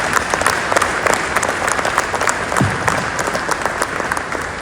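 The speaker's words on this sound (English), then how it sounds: "A loud round of applause for him, please." A large audience gives a chief guest at a motivational event a loud round of applause: dense, continuous clapping with sharper individual claps standing out, steady throughout.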